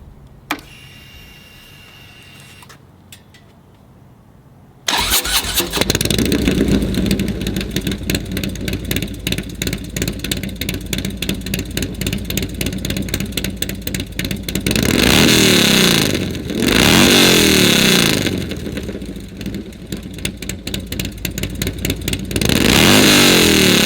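A 2009 Harley-Davidson Night Train motorcycle engine starts abruptly after a quiet moment, settles into a loud rumbling idle through its exhaust pipe, then revs up hard several times, roaring and dropping back.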